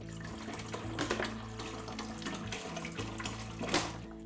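Sandy river water poured into an aquarium in a children's sand demonstration, a steady close gushing and splashing of liquid with a low background hum, no voices.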